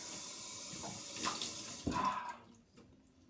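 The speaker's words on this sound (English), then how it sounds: "let me rinse that off." Tap water runs briefly to rinse a razor after shaving, a close splashing burst that swells and fades within a few seconds, with no one talking.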